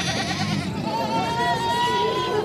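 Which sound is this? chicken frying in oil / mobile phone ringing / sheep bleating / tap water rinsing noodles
sheep bleating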